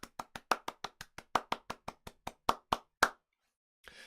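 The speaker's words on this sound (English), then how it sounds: "giving you a huge round the world round" Applause at a virtual JavaScript conference sounds as a run of about fifteen separate, evenly spaced claps over three seconds, sharp and close, like one pair of hands, then a pause and a faint rustle.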